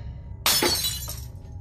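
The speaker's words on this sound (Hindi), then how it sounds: "मुझे कांच का एक ग्लास ज़मीन पर गिरने की आवाज़ आई" A drinking glass drops onto a floor and shatters in one sudden bright crash, followed by a brief tinkle of scattering shards over a low steady hum.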